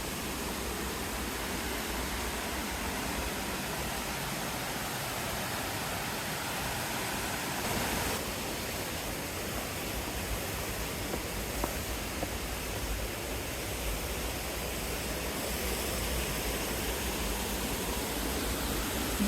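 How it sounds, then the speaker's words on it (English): Small waterfall at the top of Rodney Falls plunging from a rock cove into a deep pool, a steady broadband rushing roar that stays constant and fairly loud throughout, with no voices. "This spot at the top of Rodney Falls is a unique feature with a small waterfall hidden in a cove of rock, plunging into a deep pool within."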